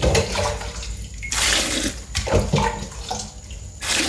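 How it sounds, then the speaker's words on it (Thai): Water pours into a container to soak rice for a pickled vegetable dish, in several loud splashing, gushing bursts with brief lulls between them. "ใส่น้ำ ใส่น้ำแช่ข้าว น้ำก็มาค่ะพี่น้องใส่ไปเลย"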